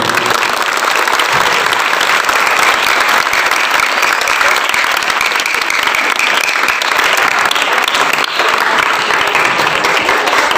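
A large crowd at an Indonesian school Independence Day ceremony applauds the teachers, loud sustained clapping from many hands filling the space evenly for about ten seconds, with no voices over it.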